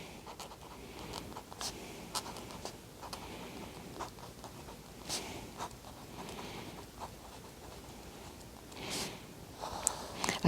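A fine liner nib on an Ohuhu marker writing on paper, faint soft scratching strokes in irregular short bursts, close and quiet against a low background hiss.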